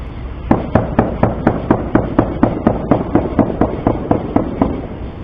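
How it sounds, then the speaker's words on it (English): A long, evenly spaced string of sharp, loud bangs goes off in Shreveport, about three per second, with no voices. "And a little follow-up gunfire."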